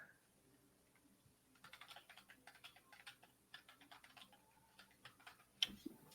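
Typing on a computer keyboard, a quiet run of quick irregular key clicks that starts after a short pause and continues in bursts, close and alone, ending with a sharper tap.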